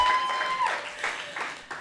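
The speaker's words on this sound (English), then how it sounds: "Hold your applause." A comedy-show audience breaks into brief applause and laughter, a broad wash of clapping from the crowd that swells and then tapers off.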